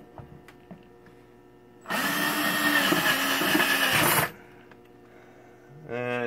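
A power drill bores a hole through material for a stop-motion puppet armature in a workshop, whirring loudly and steadily for a couple of seconds before stopping, with quieter background noise around it.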